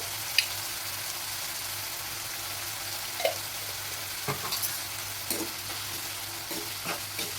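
Tomatoes sautéing with salt and turmeric in a pan, a soft steady sizzle with occasional stirring scrapes and clinks, moderately close and alone without talk.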